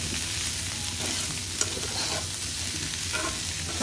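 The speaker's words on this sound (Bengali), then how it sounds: "এই আলুটা শুকনা শুকনায় ভাজা লাগবে।" Potatoes dry-frying in oil with bay leaf, ginger-garlic paste, turmeric and chili powder, a steady close sizzle with occasional stirring scrapes, no talking.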